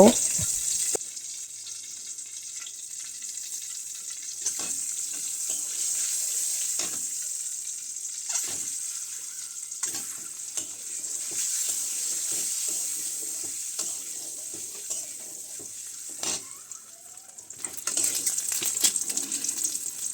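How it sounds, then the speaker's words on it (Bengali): Eggs fry in oil with a little turmeric in a wok, giving a steady, close bright sizzle throughout, with scattered clicks and stirring scrapes and a louder surge near the end. "কড়ার মধ্যে তেল দিয়ে দিলাম আর এখন সামান্য হলুদ দিয়ে ডিমগুলো ভেজে নিব"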